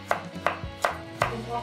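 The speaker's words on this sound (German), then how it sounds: "Ich habe meine Bio-Karotte mir jetzt schon halbiert und werde die jetzt einfach hier so in Streifen runterschneiden" Knife slicing a halved organic carrot into strips on a cutting board, four crisp evenly spaced chops, close and clear with no talking.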